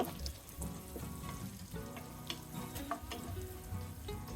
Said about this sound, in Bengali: দশ বারোটা শুকনো মরিচ আমি টুকরা করে নিয়েছি আর অর্ধেকটা রসুন কুচি করে নিয়েছি দিয়ে দিলাম কিছুক্ষণ আমি ভেজে নেব